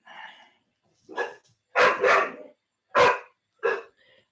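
A dog barks in the background, five loud, distinct barks spaced irregularly after an opening yip, with quiet gaps between them and no speech.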